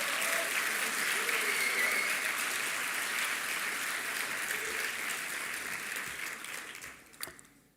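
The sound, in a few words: applause from the commencement audience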